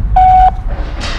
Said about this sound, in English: just make sure you leave a voicemail after the beep